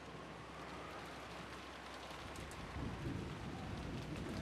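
Steady rain pours down in a scene from the visual novel Umineko Chiru, a dense continuous hiss that swells a little louder partway through, with a low rumble underneath and no voices.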